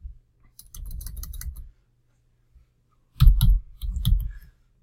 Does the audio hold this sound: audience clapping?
no